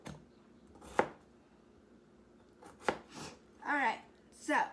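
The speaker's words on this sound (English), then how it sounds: "Yeah, I'm done chopping so I can put that" A knife chops potatoes on a cutting board in a home kitchen, a few sharp, separate knocks spread across a quiet moment, followed by a rustle of handled pieces.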